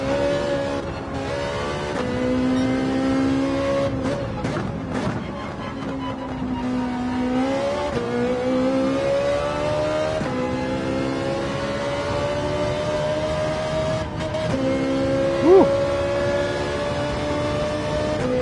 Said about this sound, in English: Nice to be able to use the throttle to reposition the nose.